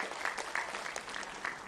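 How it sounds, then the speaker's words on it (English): A room of people applauds a team managing institutional innovation council activities, a fairly quiet, even patter of clapping heard from some distance with a few sharper claps standing out. "So sincere round of applause for our team managing the IIC activities."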